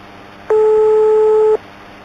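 A telephone in a horror video game rings with one steady electronic tone lasting about a second, loud and alone against a faint background hum.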